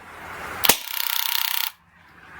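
A Baikal Drozd MP-661K BB machine gun fires one sharp shot, then a fast burst of evenly spaced mechanical clacks for about a second before cutting off, loud and close, outdoors.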